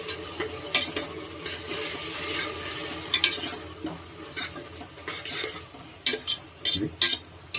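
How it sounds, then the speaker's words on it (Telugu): Ginger paste frying in a pan with a steady sizzle, broken by repeated scraping stirs from a spoon against the metal at an irregular pace, close and moderately loud. "అల్లం పేస్ట్ బాగా వేగాలి"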